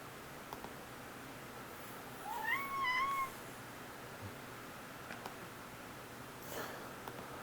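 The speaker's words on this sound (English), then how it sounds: "that's my cat in the background" A pet cat meows briefly in the background, one short rising call around the middle, faint and distant over a steady hum with no talk.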